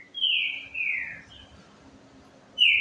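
A young green-winged saltator sings two clear, sliding whistled phrases close by. After a quiet gap, a third short note is cut off at the end.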